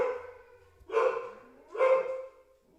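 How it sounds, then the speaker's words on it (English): Dogs bark at a package delivery, two loud, close barks about a second apart with a brief pause between them, no talking heard. "Can you guys hear my dogs in the background? There was someone delivering a package and they're freaking out."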